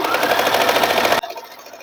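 A sewing machine stitches the fall onto a saree, running fast and steady for about a second, then stopping abruptly, leaving faint room noise.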